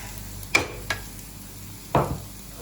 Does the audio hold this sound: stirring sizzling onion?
yes